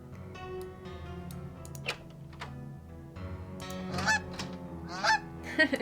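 Geese honk in the Nancy Drew game The Final Scene, a string of nasal honks that grow louder and more frequent toward the end, set over a faint ticking background.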